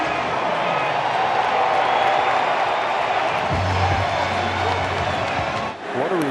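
A Phillies baseball crowd roars for a Rhys Hoskins play, a loud, sustained wash of cheering throughout, with a brief low tonal rumble near the middle and a short dip near the end.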